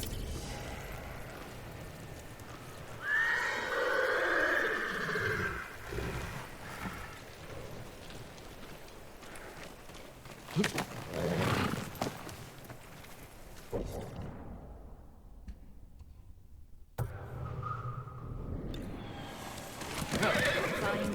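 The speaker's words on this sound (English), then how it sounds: "You're a good horse, Nobu." A horse whinnies loudly near the start in Ghost of Tsushima, followed by hoof clops and scattered effects, then another shorter neigh later amid gaps of near silence.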